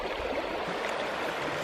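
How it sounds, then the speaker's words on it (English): Shallow, rocky-bottomed trout creek about a foot deep, flowing with a steady, close broadband rush and gurgle, no voices. "nice rocky bottom though. That's what makes it a good trout stream."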